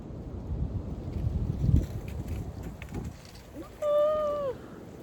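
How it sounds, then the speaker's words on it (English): Outdoor wind gust sweeps across the microphone as a broad, rising rush of noise, loud and close, then fades; a brief bird call rings out near the end. "It's like a wave of wind."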